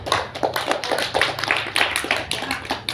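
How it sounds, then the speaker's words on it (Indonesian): A small gathering at a bonsai association meeting claps for a few seconds, individual hand claps audible and fairly close in an uneven, scattered rhythm. "tepuk tangan buat Pak Nur Salim"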